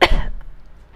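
A single short, forceful cough, muffled as if into the bend of an elbow, heard close and alone with a faint tail after it.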